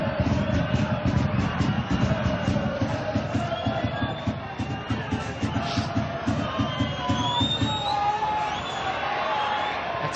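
A football crowd at the 2014 League Cup final in Dundalk, Dundalk FC against Shamrock Rovers, keeps up a continuous roar of chanting and babble with rhythmic pulses, heard from a distance under a commentator's voice.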